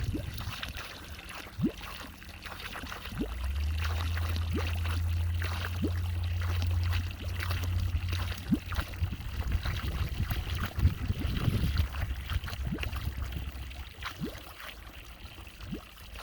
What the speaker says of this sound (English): Our water coming out over here.